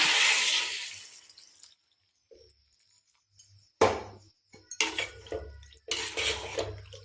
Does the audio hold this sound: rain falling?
no